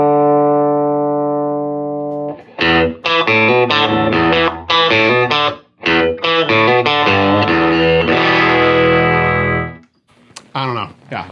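Electric guitar through a Fender tweed amp, either a 1960 Deluxe or a 1959 Harvard: a sustained chord, then a busy run of loud, slightly gritty notes and strums up close, ending in short bursts.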